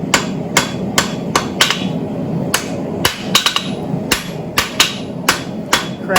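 A blacksmith hammer-polishing hot steel tongs on an anvil: sharp, ringing metallic strikes in an irregular rhythm, close and loud, with short pauses between bursts of blows.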